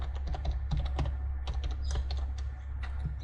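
Typing on a computer keyboard, quick irregular key clicks up close over a low steady hum, with no talking.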